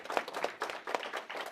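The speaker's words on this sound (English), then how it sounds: "a huge applause for Mattias, who shared his knowledge" An audience at a game-conference networking breakfast applauds a speaker, with faint, brief, rhythmic clapping from a small crowd.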